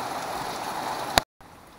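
Steady rain falls outside near a 1964 VW Beetle awaiting sanding, a continuous even hiss that stops abruptly near the end.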